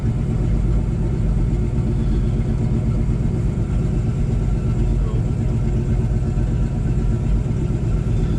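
A Chevrolet Suburban engine fitted with an Edelbrock carburetor runs with no muffler, a loud, raw, continuous rumble that idles steadily throughout.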